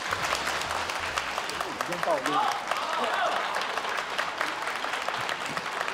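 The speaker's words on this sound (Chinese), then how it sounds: "我们掌声欢迎" Audience applause at a televised crosstalk comedy show welcomes the performers onto the stage, a sustained dense clapping throughout with someone speaking over it.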